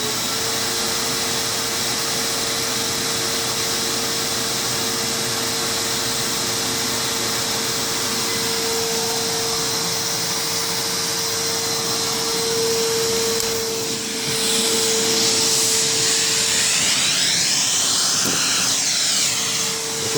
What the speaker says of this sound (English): let's see what this vacuum cleaner pulls